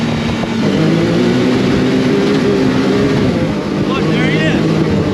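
A Can-Am X3 off-road UTV engine droning steadily while driving on sand dunes, loud and continuous with a voice shouting briefly over it.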